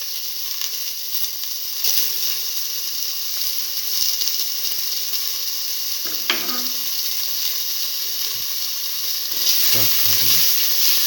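Shallots fry in a pan with a broad, steady hissing sizzle, while a voice speaks briefly twice in the background.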